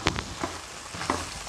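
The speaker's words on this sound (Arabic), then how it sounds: "نقلب المكونات في القرنبيط كده" Cauliflower tossed with paprika, dried coriander and cumin in a pan, a soft sizzle with a few scraping stirs of a spoon, close and fairly quiet with no talking.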